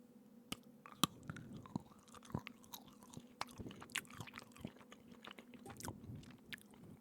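Someone chews a Cadbury chocolate Easter egg close up, with a crisp bite and then steady wet munching and small crunches over several seconds, and no talking.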